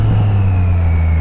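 Triumph Street Triple RS motorcycle engine revving with the clutch pulled and throttle held open, a loud close steady buzzing drone at high revs that slowly sags in pitch.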